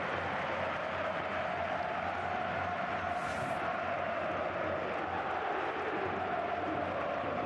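Stadium crowd at a Real Madrid football match, a dense, constant roar of many voices spread wide and far off, holding level throughout with a brief whistle-like rise near the middle.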